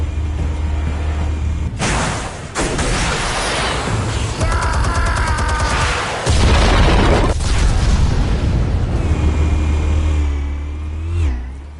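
Armed explosives go off in Batman: The Telltale Series, loud bursts and rumbling booms over a steady low drone and sweeping engine-like roar across a long, dense passage with no talking.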